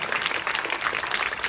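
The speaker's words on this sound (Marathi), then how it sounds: "त्यासाठी एकदा विनोदजी सुरोशे सरांसाठी जोरदार टाळ्या होऊ द्या" Steady applause from an audience at a bicycle distribution event, a dense even clapping texture with no pauses across the short stretch.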